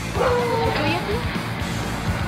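A dog yelps and whimpers in sharp, high cries after a crocodile bite, heard over a steady low background hum with voices nearby.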